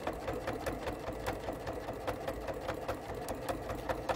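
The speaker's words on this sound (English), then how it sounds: "you can meander with a twin needle and just be careful of that spool, the top spool so it feeds right" Sewing machine running a twin needle for meandering quilting stitches, its steady mechanical whir punctuated by regular rapid needle clicks throughout, close and fairly loud with no talk.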